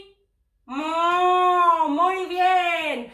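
Human voices imitate a cow's moo as one long, drawn-out, loud tone in a children's farm song.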